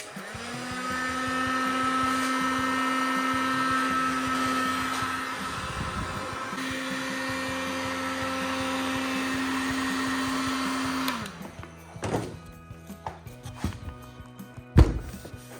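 A steady, loud whirring of a heat gun heating a plastic car bumper runs for about eleven seconds, briefly dipping once, then cuts off, followed by a few scattered knocks and thumps.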